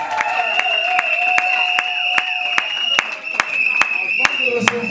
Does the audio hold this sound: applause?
yes